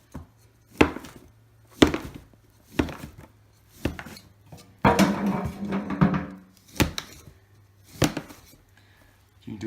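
A knife chops a block of Bruneaux fishing bait into cubes on a board. Sharp thunks land roughly once a second, close and crisp, with a longer scraping cut partway through and no speech.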